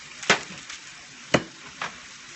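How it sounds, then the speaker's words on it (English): Pork pieces tossed back into a hot pan with their juices for a stir fry, giving two sharp close scrapes and clatters followed by softer ones over a thin, steady sizzle. "I'm going to toss my pork back in with the juices that were in there"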